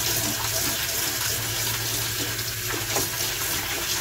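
Lukewarm water is poured into a bokashi aerobic digester, a steady, full rushing flow that continues without pause, close and fairly loud.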